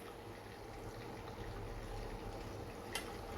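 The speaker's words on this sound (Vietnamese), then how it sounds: "Mình sẽ gấp ra mình chiên cái phần còn lại." Freshwater prawns with heads and shells on frying in hot oil, a steady soft sizzle and bubbling throughout, with one brief sharp click near the end.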